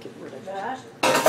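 A measuring spoon scrapes and clinks against a container while stirring a homemade white paint mixture, a short soft rustle followed by a louder burst of clattering strokes close by.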